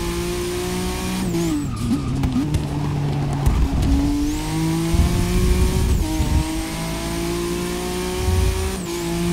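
An Aston Martin DBR9 race car in a Le Mans video game, its engine droning loudly with pitch sweeps through gear changes and brief tire squeals, continuous and close.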